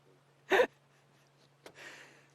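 A single sharp, breathy sneeze from a male lion bursts out loudly, followed by a softer snort or exhale a moment later over a low steady hum.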